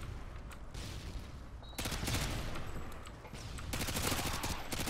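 Rapid bursts of ACR rifle fire in Call of Duty: Modern Warfare 2, loud clustered automatic volleys broken by short pauses, with no talking over them.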